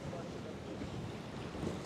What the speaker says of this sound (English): it's almost over 20 knots of wind